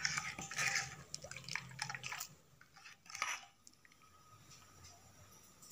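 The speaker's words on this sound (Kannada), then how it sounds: "ಚೆನ್ನಾಗಿ ಮಿಕ್ಸ್ ಮಾಡ್ಕೊಳ್ಳೋಣ." Lemon rasam mixture being stirred in a pot, with wet liquid sloshing and dripping sounds and soft clinks, busier at first then quieter.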